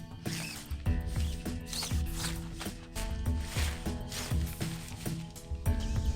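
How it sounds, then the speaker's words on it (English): Tent poles slide and click through the fabric sleeves of a Coleman Sundome tent, giving a steady run of scraping, ratcheting rattles with sharp knocks at irregular intervals, all close to the listener. "These are the sleeves that you're gonna pass the tent poles through"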